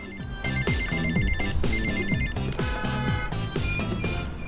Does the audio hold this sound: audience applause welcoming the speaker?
no